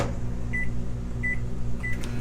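A microwave oven runs inside a camper with a steady low hum, and a faint high chirp comes three times at even intervals over the drone. Nobody speaks.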